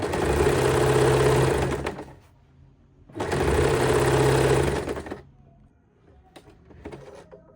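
A sewing machine stitches salwar fabric along a chalk marking, running in two steady bursts of about two and three seconds each with a short pause between, followed by a few quiet handling clicks.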